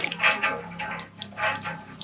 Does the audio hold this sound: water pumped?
yes